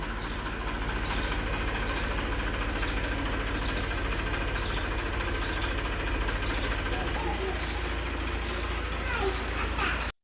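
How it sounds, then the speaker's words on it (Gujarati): A tractor engine idles in a village in the morning, a steady, low, chugging drone that runs unchanged throughout, with faint voices and background activity beneath it. "ટ્રેક્ટર આવે ગયું"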